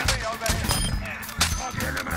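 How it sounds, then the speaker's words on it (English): Rapid gunfire bursts in the DEMONs Kingdom shooter, several loud volleys cracking in quick succession under a player's speech. "Oh, they're shooting me from the back."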